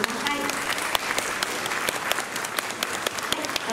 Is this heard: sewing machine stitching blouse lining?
no